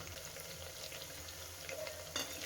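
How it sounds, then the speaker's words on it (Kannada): Butter heats in a pan for homemade ghee made from packet milk, giving a steady, soft, close sizzle and crackle throughout, with no talking. "ಬೆಣ್ಣೆ ಚೆನ್ನಾಗಿ ಕಾಯಲಿ"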